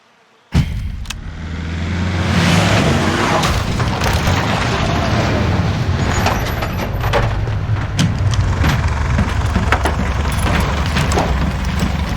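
A precision airstrike in Call of Duty: Warzone lands with a sudden heavy boom, then a sustained roaring rumble of blasts and crackling debris that stays loud for several seconds.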